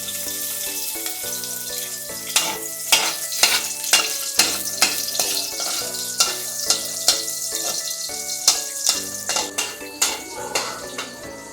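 Garlic frying in a home-cooking pan, with steady sizzle beneath repeated clatter of a utensil stirring against the pan, sharp knocks every second or so, close and fairly loud, no talking.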